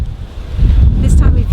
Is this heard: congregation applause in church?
no